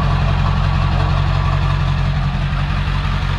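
Work truck engine idling with a big hole in its muffler, a steady loud low rumble that stays constant and close throughout, with no talk over it.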